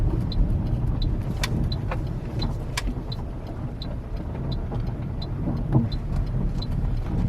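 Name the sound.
car driving and turning a corner on a main road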